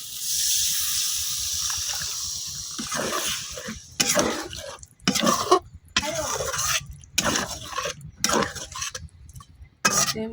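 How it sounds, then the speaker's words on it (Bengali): Broth is poured into chicken curry in a pan, heard close as a liquid splash followed by short bursts of sloshing and clinking utensils separated by brief silences. "এখন দিয়ে দেন পরিমাণ মতো ঝোল"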